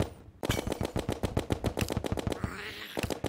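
Endless rapid musket fire in the video game Terraria, aimed from a ranged weapon: a steady, evenly spaced string of about twenty sharp, loud shots, with a faint electronic sweep near the end and no speech.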